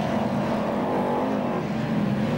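Formula One stock cars race on the new Belle Vue Kirkmanshulme Lane circuit in 1999, a continuous loud roar of engines with no voices.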